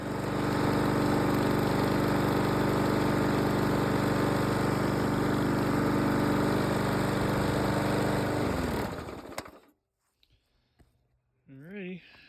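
Lawn mower engine running loud and steady for about nine seconds, then cutting off into near silence with a few faint clicks and a brief whine at the end, at a riverside cabin during spring maintenance.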